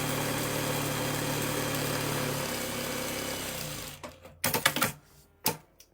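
A sewing machine stitches down 1.5-inch fabric strips for a checkerboard quilt row, running as a steady close hum for about four seconds before stopping and giving way to a few sharp handling clicks and knocks.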